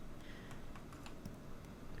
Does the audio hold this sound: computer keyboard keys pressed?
yes